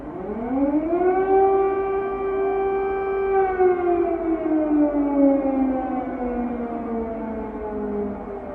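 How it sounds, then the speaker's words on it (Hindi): Air raid sirens wail at night across the Cherkasy and Poltava regions of Ukraine, a loud, sustained civil defense tone that rises, holds steady, then slowly falls in pitch, heard alone. "चरकासी पोल्टावा के इलाकों में रात में फ़ज़ाई हमले के सायरन बजने लगे।"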